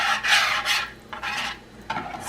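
A spoon or whisk stirs thin, runny crepe batter in a bowl, scraping up the sides in several rough, raspy strokes with short pauses between them.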